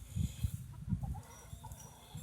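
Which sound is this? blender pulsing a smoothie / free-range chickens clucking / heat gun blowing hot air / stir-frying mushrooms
free-range chickens clucking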